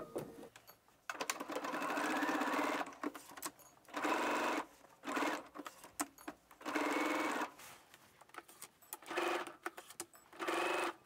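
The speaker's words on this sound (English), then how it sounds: "Now we're gonna sew the front piece to our side front at 5/8 of an inch seam allowance." Sewing machine stitching a dress front piece to the side front at a 5/8 inch seam allowance, whirring in several close, steady bursts of a few seconds each, separated by short pauses.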